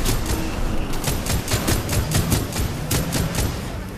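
Rapid automatic gunfire from Titanfall 2 rattles in a steady, fast string of sharp shots, loud and close, with brief pauses between bursts and no voice over it.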